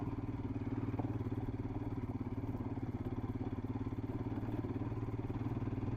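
A Honda Splendor motorcycle rolls slowly over a muddy off-road hill trail near Kollegal, its single-cylinder engine putting out a steady, close low thrum with a faint clattery pulse throughout.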